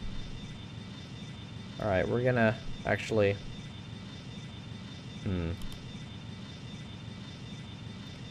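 Airplane engine in the Extreme Landings flight simulator game, a steady even drone running continuously through the clip at low level beneath several bursts of speech.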